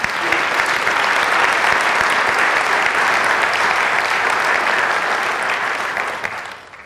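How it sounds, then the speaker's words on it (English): Audience applause for speakers and panelists at a moderated forum on gun violence in America, a sustained, dense clapping from a full room that holds steady for several seconds before tapering off. "please join me in a warm round of applause for our speakers and panelists"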